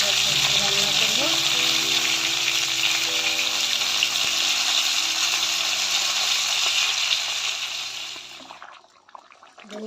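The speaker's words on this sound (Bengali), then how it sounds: "এখানে আমি মাছ দিয়ে দিয়েছি কড়াইয়ে। মাছগুলো লাল লাল করে দিয়ে দিই" Fish frying in hot oil in a kadai gives a loud continuous sizzle close by for about eight seconds, then quickly dies away near the end, with no talking.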